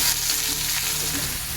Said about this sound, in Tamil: ஃபஸ்ட்டு நம்ம பிரண்டையை போட்டு வதக்கிக்கலாம்